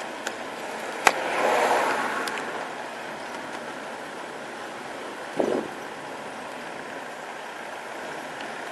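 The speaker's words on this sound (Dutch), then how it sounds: "Zoals je misschien al hoort, zijn we in de buurt van een waterval." A waterfall in the Thai jungle hisses as a steady, moderately faint broadband wash in the distance, with brief bumps and rustles from handling on top.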